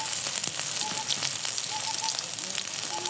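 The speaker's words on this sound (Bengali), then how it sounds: "এখন পেঁয়াজ দিয়ে ছোলাটা ভুনবো" Onion and chickpeas frying in hot oil give off a steady, close broadband sizzle with scattered crackles and pops. The sizzle runs unbroken for the whole stretch at a fairly loud level, and faint speech-like tones rise now and then beneath the frying.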